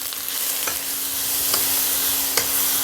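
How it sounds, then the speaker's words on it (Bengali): Onion and tomato sautéing with salt in a pan for a pomfret green chilli dish, a steady close frying hiss broken by a few sharp stirring scrapes, with no talking. "পেঁয়াজ টমেটো কষানো হয়ে গেল"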